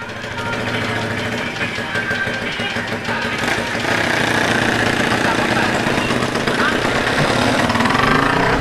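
A Sniper 200cc motorcycle with a Tobaki racing-spec engine and Jhoe exhaust runs in heavy traffic, a loud, rough, pulsing engine drone that swells in the second half, with a voice talking over it.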